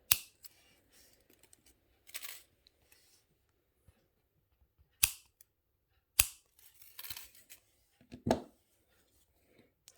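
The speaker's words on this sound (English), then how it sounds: "So these wires here, we're just going to cut them and press them around the side of the frame" Wire cutters snipping the wire tails on a wire-wrapped pendant, several crisp isolated clicks spaced seconds apart with soft handling rustles in between, close and quiet, no talking.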